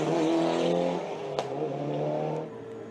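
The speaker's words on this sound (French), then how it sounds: "la Toyota type Sainz continuait à rouler gentiment." A Toyota rally car of the Sainz type runs at the Circuit des Remparts 2017 in the Henri Toivonen historic class. Its engine drones loud and close with shifting pitch and a sharp click midway, easing off near the end.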